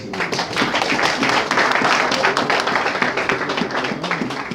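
A church congregation at a Haitian wedding in a Foursquare church in Curitiba, Brazil, applauds together, a fairly loud, dense and continuous patter of many hands.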